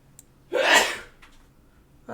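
One loud, close sneeze erupts with a breathy burst, followed by faint breathing and the start of a voice at the very end.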